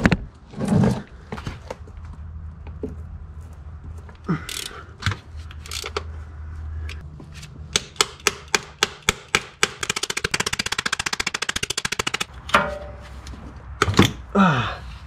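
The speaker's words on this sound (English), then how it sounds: "So with a 10 millimeter Allen, go ahead and loosen up this drain plug." A 10 mm Allen socket on a ratchet loosens the transmission drain plug of a '94-'03 Toyota Camry-family car. A few dull knocks come first, then a long run of quick, close ratchet clicks, with some thumps at the end.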